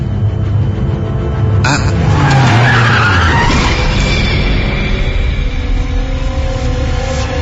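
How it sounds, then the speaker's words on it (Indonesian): An angkot minibus brakes suddenly on a downhill road, and its tires skid with a loud, close screech that fades over several seconds. A voice is heard under the skid. "Angkot langsung ngerem mendadak."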